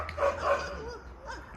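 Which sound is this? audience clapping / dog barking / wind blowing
dog barking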